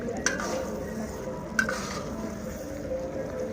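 A large spatula scrapes and clanks steadily in a big cooking pot at an outdoor family picnic, with a few sharp metallic knocks over a continuous background sizzle.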